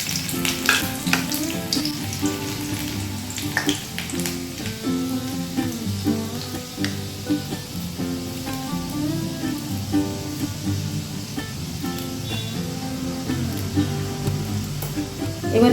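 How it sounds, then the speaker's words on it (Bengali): Black cumin seeds and chopped garlic frying in hot oil in a home kitchen, a continuous crackling sizzle with bright spattering pops, accompanied by background music throughout. "তেল গরম হয়ে গেছে, এতে আমি দিয়ে দিচ্ছি কালো জিরে, দিয়ে দিচ্ছি রসুন কুচি"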